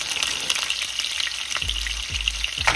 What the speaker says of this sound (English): Be careful when you drop these wet things into your oil.